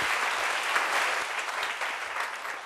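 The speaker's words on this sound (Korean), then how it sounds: "다시 한번 박수로 주님께 영광 돌려." A church congregation applauds, giving a thick, continuous wash of many hands clapping at steady volume that eases slightly toward the end.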